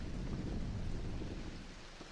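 Heavy rain with rolling thunder in an animated horror story, a dense wash of falling water over a deep sustained rumble that eases slightly toward the end, with no voices.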